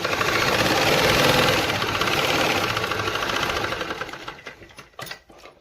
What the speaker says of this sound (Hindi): देखिए मैं एक बार फिर से आपको सिलाई करके दिखाती हूँ।